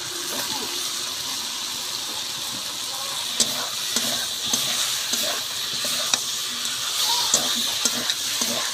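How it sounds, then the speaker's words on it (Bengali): Chicken and fried potatoes sizzle steadily in a pan, with broadband frying hiss throughout and occasional sharp clicks of a spatula stirring against the metal. "এইভাবে মাংসটাকে ভালো করে কষে নিয়ে তারপর ভেজে রাখা আলুটা দিয়ে দেওয়া হলো"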